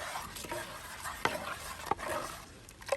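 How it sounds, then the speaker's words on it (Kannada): Spoon stirring jaggery and cardamom powder into a sesame juice mixture in a pot, with soft repeated scraping strokes and a few sharper clinks against the vessel, close and unaccompanied by speech. "ಬೆಲ್ಲ ಒಳ್ಳೆ ರೀತಿಯಲ್ಲಿ ಮಿಕ್ಸ್ ಆಗಲಿ."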